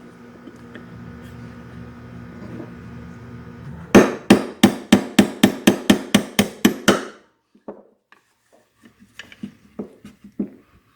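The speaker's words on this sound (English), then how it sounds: "And now we'll take our punch and we'll finish this out." A hammer drives a punch against a roll pin in a Harley Twin Cam oil pressure relief valve, about a dozen sharp metallic blows in quick steady rhythm, close and loud, followed by a few lighter taps and clinks.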